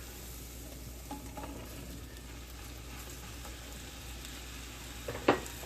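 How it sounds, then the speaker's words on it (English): Mushrooms searing in a hot pan with kosher salt give a soft, steady sizzle at close range, with a sharper clatter near the end. "when I sear mushrooms like this, I kind of put all the flat sides down"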